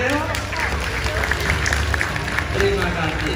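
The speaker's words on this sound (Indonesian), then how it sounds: "Kita berikan semangat tepuk tangannya untuk Leon." Visitors at a safari park lion show clap for a young male white lion, a moderate scattered patter of hands beneath a loudspeaker voice and low rumbling background noise.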